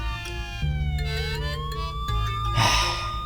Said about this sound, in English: Within a few seconds, a police siren is playing from its speakers.